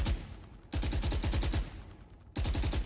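Bursts of suppressed automatic gunfire in a video game, three rapid strings of muffled shots with a brief pause between them, loud and close.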